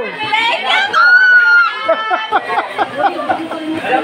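A crowd of children at a feeding program in San Roque hills shouts together, loud and close, a ragged burst of many voices followed by excited chatter and laughter.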